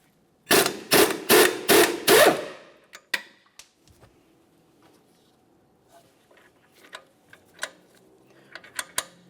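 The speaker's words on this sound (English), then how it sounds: "Let's use a wrench to hold the bolt head and a 19mm socket to remove the mounting nut" A wrench and 19mm socket work loose a strut mounting nut on a 2006-2011 Honda Civic knuckle assembly, starting with a quick burst of five loud ratcheting clicks followed by scattered lighter metallic taps and clinks.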